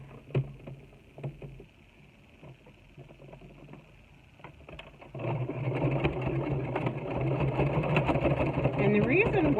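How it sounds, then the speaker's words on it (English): A sewing machine hums and stitches down the side of a half apron, faint and intermittent at first, then running steadily louder through the second half. "Now I'm going to go to the other side and sew it down."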